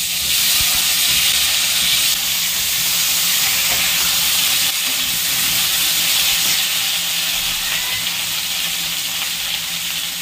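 Pointed gourd (potol) frying in hot oil in a wok, a loud, continuous sizzle and hiss that holds steady throughout without talk.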